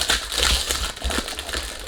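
Crinkling and crackling of packaging as an Al Haramain Azlan Oud Bleu Edition perfume box is unboxed, a steady close-up rustle running through the whole stretch with no talking.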